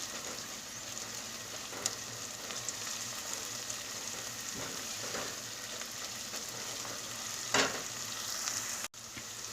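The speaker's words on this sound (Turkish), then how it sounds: "Şimdi bunları güzelce tekrar soğanla salçamızı kavuralım." Onion and tomato/pepper paste sautéing in a pot for a Turkish spinach stew, a steady close sizzle and crackle throughout with occasional stirring scrapes, no voices.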